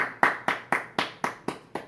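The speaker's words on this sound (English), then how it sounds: "Let's go ahead and clap." Seven sharp hand claps at a steady, even pace, close and fairly loud, with no voices.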